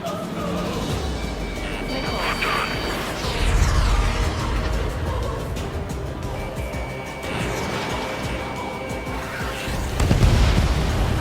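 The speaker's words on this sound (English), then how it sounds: "It's a hit. The unidentified aircraft is going down." Missile hits and explosions from the Ace Combat 7: Skies Unknown flight game, with an aircraft being struck, sound as several heavy booms and rumbling blasts over continuous loud jet and combat noise.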